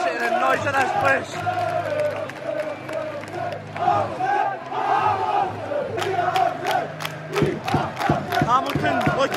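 Football crowd at an Airdrie playoff match roaring as the teams come out, chanting and shouting in rolling waves with scattered claps and whoops, loud and echoing.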